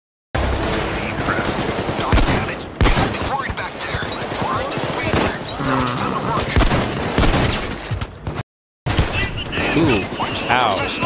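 Heavy gunfire in the video game Payday 2, bursts of automatic shots and sharp impacts crackling throughout amid chaotic game noise, with people talking over the shooting.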